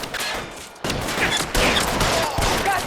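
Rapid gunshots in the video game L.A. Noire, a loud burst of shots in quick succession after a brief lull, sharp and close throughout.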